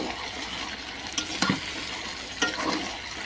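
Chicken and potatoes stir-fried in a pan for curry, a steady sizzle broken by a couple of scraping stirs of the spatula, close and continuous.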